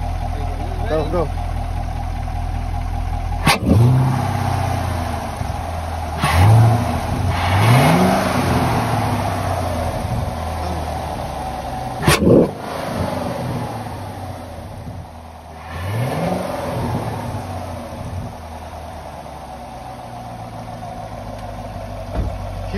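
A V8 Camaro SS engine with a K&N cold air intake idles steadily and revs up sharply a few times, each rise falling back to idle, with people talking nearby.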